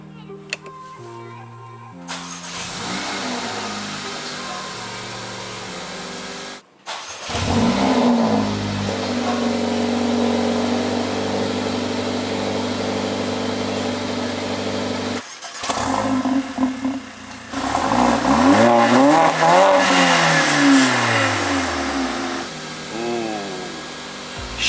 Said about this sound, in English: So finally, the thing that you have all been waiting for, startup of this car.